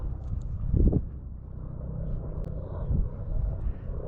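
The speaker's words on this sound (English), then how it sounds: "Oh, it's a helicopter." A helicopter passes at a distance over hilly terrain as a low, steady rumble that swells slightly toward the end, with no talking.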